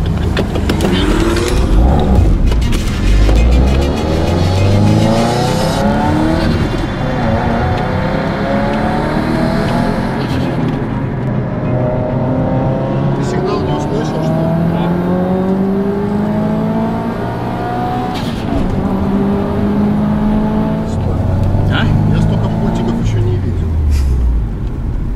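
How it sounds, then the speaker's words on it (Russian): An Audi Allroad and a Subaru accelerate hard to 80 km/h, engines rising in repeated climbing sweeps as gears change, loud and close, with people talking over the engine noise throughout. "сразу разгоняемся до 80"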